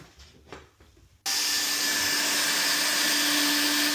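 A hot-air plastic welder tacks the joints of a custom 12 mil polypropylene tank for a Transit van, a steady loud blower hiss starting abruptly after a quieter moment and running on without a break.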